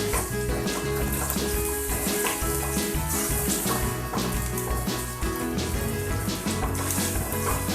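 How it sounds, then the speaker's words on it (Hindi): Water poured into a pan of onions cooking over a low flame, a loud steady rush and sizzle that carries on without pause from start to end. "इसमें थोड़ा सा पानी डाल दें आप।"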